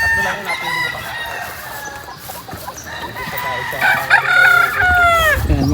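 Straight Sweater gamefowl roosters on a farm in Tanauan, Batangas crow loudly and cluck nearby, with several overlapping crows building toward the end and someone talking quietly beneath them.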